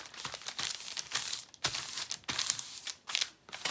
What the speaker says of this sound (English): and put a piece of tape here